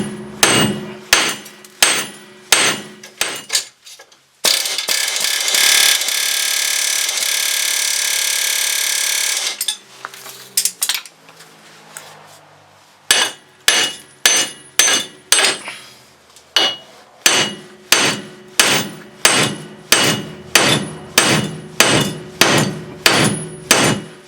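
Heavy hammer blows strike a seized wheel hub to free it, rhythmic metallic clangs in runs with a longer spray-like hiss midway, then a return to steady repeated whacks, loud and close without speech.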